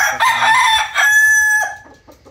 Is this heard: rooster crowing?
yes